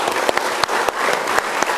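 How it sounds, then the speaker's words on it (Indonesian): Studio audience applauding on a TV management talk show, steady dense clapping for nearly two seconds with a few sharper claps standing out. "Kita beri tepuk tangan lagi"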